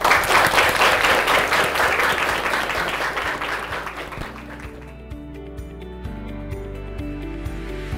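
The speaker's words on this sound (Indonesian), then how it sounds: "Kalau begitu beri tepuk tangan untuk Ibu Dewi." A classroom audience at a parliamentary outreach class claps together, loud and full at first, then thins and fades out as a soft tonal music bed takes over.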